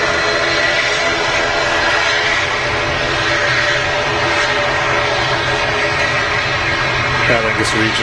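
Steady, loud jet engine roar from an Aer Lingus Regional plane at Manchester Airport, a constant broadband drone lasting throughout, with a voice speaking over it.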